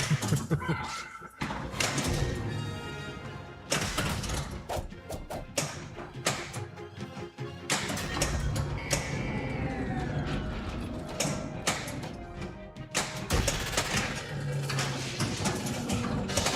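A Jurassic Park pinball machine in play, with continuous rattling mechanisms, thumping flippers, clacking solenoids and ratcheting parts over electronic game sounds, loud and close, with occasional talk mixed in.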